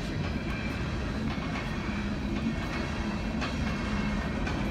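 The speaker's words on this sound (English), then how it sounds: "we caught another train on video again." A train rolls steadily past nearby, its heavy low rumble and rhythmic rail clicks continuing throughout at a constant loudness.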